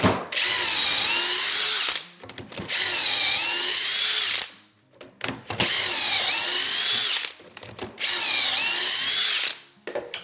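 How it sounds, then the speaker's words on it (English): A power drill whines loudly in four long bursts, boring dowel holes in a clamped wood workpiece with a Dowelmax jig, with short pauses and clatter between each hole. "and drill off 4 holes."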